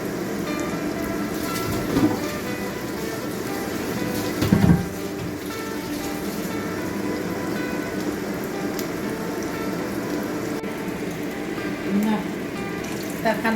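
Salted gunjing fish frying in a pan with a sprinkle of sugar, a continuous crackling sizzle that holds steady throughout, with a few louder pops and knocks.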